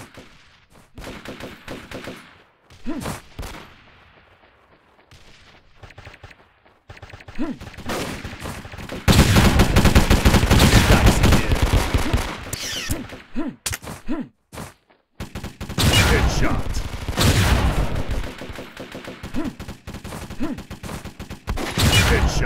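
Rapid gunfire from the shooter game Offensive Combat, with sniper shots and bursts of automatic fire. Loud volleys come in clusters, separated by short quieter gaps.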